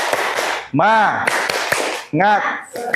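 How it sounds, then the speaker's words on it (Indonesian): A class of pupils performs a rhythmic clapping cheer, sharp claps and taps sounding in quick patterns with loud group voices chanting between them. "Yuk kita tepuk semangat dulu biar semangat."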